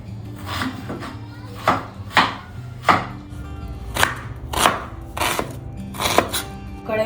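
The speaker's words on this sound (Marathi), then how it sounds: "कांदा फोडणी लागणार आहे नंतर उभा कापायचा नाही बारीक बारीकच बारीक" Onions chopped finely with a knife on a board, a run of sharp, irregular thuds and clacks, close up and alone.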